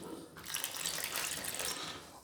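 Water poured into flour for pani puri dough, a short close splashing trickle lasting under two seconds, clear and fairly quiet with no talking.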